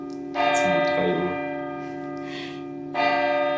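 Church bell striking the hour, two loud ringing strokes with long humming decay, clear and fairly close, with a person's voice briefly heard between strokes.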